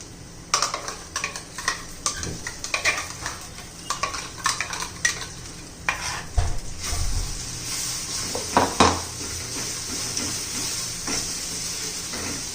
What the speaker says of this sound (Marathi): कांदा लसूण मसाला, छान असं तेलामध्ये परतून घ्यायचंय.